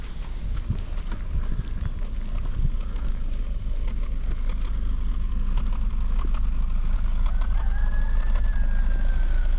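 An old, rusty Mercedes with a poor clutch idles after climbing a slope, a steady low engine rumble close by with faint outdoor background sounds and a brief high whine near the end.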